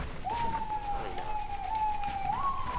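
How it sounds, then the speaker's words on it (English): A police car siren wails steadily at a distance, a single sustained tone that rises slightly near the end, faint under background noise and a rain-like hiss. "I can hear a police siren."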